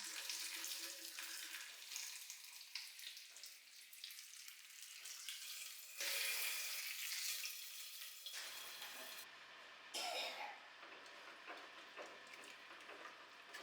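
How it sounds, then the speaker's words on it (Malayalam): Mustard seeds and dried red chillies tempering in hot coconut oil for a Kerala home lunch, giving a steady broadband sizzle and crackle that surges and drops in bursts, close and fairly loud with no talking. "നമുക്ക് ഇനി വെളിച്ചെണ്ണ അതിൽ കടുക് പിന്നെ വറ്റൽമുളക് ഇത് താളിച്ച് ചേർക്കാം"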